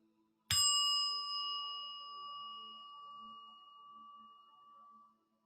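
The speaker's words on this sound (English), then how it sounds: "Now I'm going to hit the gong." A gong is struck once during a meditation session, a sharp strike followed by a long, clear ringing tone that slowly fades over several seconds in an otherwise quiet room.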